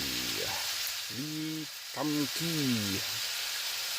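Beef and udon noodles sizzle and crackle steadily in a hot pan in a campervan, a constant bright hiss, while a voice speaks briefly over it.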